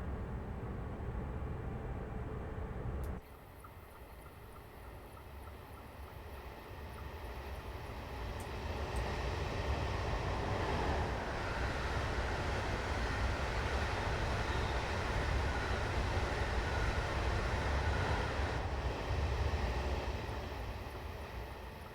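A Pacer diesel multiple unit runs steadily in Train Simulator 2020 on the Plymouth to Penzance line. A continuous rumbling engine and track drone holds at a moderate level throughout and swells slightly midway, with no talk.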